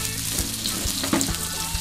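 Garlic and chili sauté in a pan, a close, crackling sizzle with a few soft stirring scrapes over a short span.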